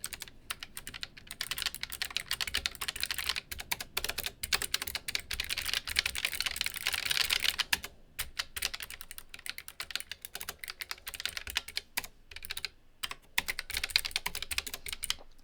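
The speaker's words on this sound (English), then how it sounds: "you hear the clicks. It's a mechanical keyboard." Steady, close typing on a mechanical keyboard with shallow keys and red-equivalent switches, a continuous patter of quick clicks with brief pauses, heard alone.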